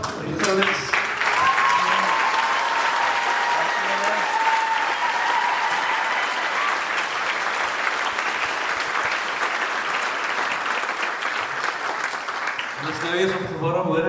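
Sustained applause from a choir concert audience at a praise-music event, filling nearly the whole stretch at steady loudness before fading, with a few voices audible at the start and end.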